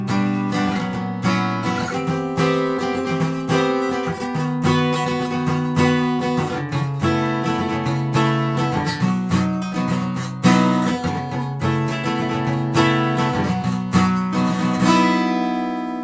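Strummed acoustic guitar plays a song with open chords, a steady full rhythm of ringing chords sustained throughout and ending on a held chord, with no voices.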